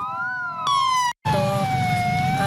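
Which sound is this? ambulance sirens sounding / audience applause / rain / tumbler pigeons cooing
ambulance sirens sounding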